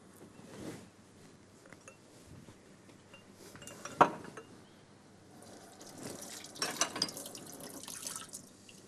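Soup herbs rinsed under a running kitchen tap, with a soft continuous water flow, light splashing and an occasional clink of a dish or utensil, close and moderately quiet.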